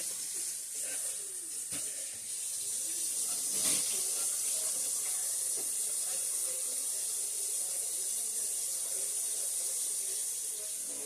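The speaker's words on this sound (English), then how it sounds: "Let me wash my hands" Running water from a kitchen sink tap streams steadily while hands are washed beneath it, with faint clinks and handling noises in a home kitchen.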